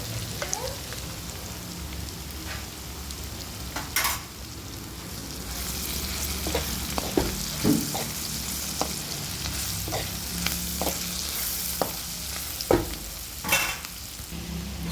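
Bitter gourd and onion curry with turmeric sizzles steadily in a pan, with repeated scraping stirs over a continuous frying hiss and no talking.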